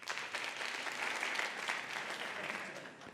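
A festival lecture audience bursts into thick, continuous applause, moderately distant and fairly quiet, steady from start to finish with no distinct voices above it.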